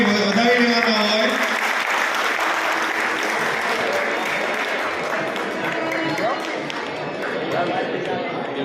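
Applause from the audience at a union's annual general meeting in Bhavnagar, a dense sustained clapping that stays loud throughout with crowd murmur mixed in.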